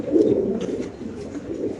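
Large Lahori breeding pigeons coo close by at a pigeon farm, a low throaty warbling call that swells and fades in soft pulses, alone without speech.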